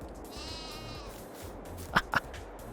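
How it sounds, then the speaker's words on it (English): Sheep on a small farm plot bleat in a few wavering calls, fairly faint, followed by two sharp nearby knocks, over quiet outdoor background. "So we finally have sheep."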